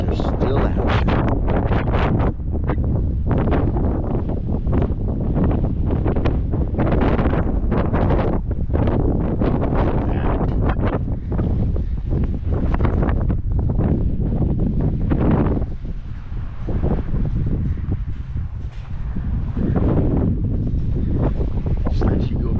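Steady wind buffets the microphone outdoors on a cool, windy day, a loud continuous rumble with gusty swells throughout, while a person talks over it at points.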